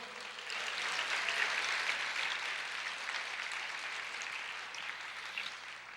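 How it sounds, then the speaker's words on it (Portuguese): A church congregation applauds together, a broad even wash of clapping that swells slightly and holds steady at moderate distance for several seconds. "Pode aplaudir o Senhor"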